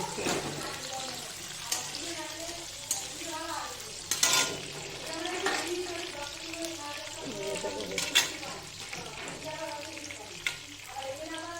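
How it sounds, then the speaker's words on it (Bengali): Ingredients for a chicken recipe being lightly fried in a pan, a soft steady sizzle with occasional stirring clatters and sharper scrapes throughout, moderately quiet. "হালকা ভেজে নিই"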